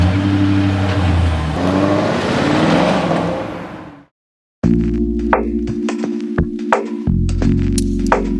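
The engine of a 2021 Aston Martin DBX drones loudly while driving, cuts off briefly, then returns as a steady, tonal hum with rattles and knocks from the cabin.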